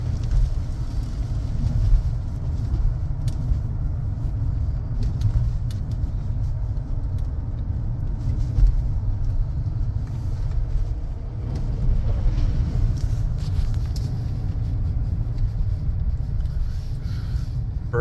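An old car drives along with a steady, continuous low engine rumble and road noise, running fairly loud and close throughout, while the gear shifts blend into the drone.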